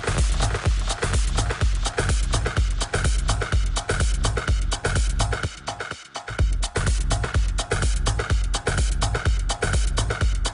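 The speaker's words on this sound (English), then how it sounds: "add some feedback and turn the timing up to max" Pioneer DJM-850 DJ mixer echo effect with feedback, pulsing beats repeating loud and steady with a brief dip near the middle before the echoing rhythm resumes.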